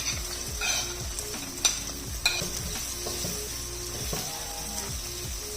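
Finely chopped large onion frying in hot oil for daal mash, sizzling steadily while a spoon stirs and scrapes the pan in repeated strokes, with occasional clinks.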